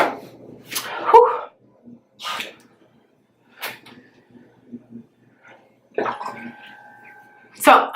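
Face being splashed and scrubbed with water during a night skin care routine, in separate bursts of wet splashing and rubbing with quiet gaps between, close and fairly loud, with breathy exhales.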